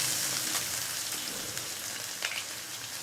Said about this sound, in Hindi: अब हमने इसमें मस्टर्ड ऑयल डाल दिया। ऑयल हमारा गर्म हो चुका। अब हमने इसमें इस प्याज को डालना